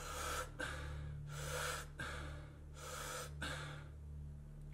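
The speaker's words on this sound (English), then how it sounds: "we're just going to inhale a lot and just let the breath go" Three deep, forceful inhales as part of a breathing exercise. Each is a loud, breathy rush of air, the breaths come at a steady pace, and the inhales are separated by brief pauses and short releases.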